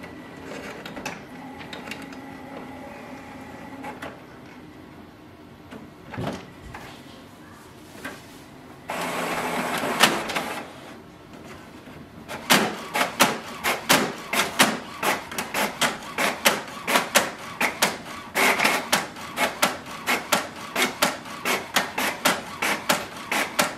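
An HP OfficeJet Pro 8210 inkjet printer prints a page: quiet whirring and a few clunks at first, then a loud mechanical stretch, then a long run of steady, rhythmic ticking and clacking from the carriage, close up with no talking.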